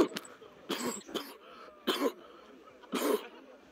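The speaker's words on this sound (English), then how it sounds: "Dude, I've been coughing too." Several harsh coughs come in separate bursts, close and fairly loud, with short quiet gaps between them.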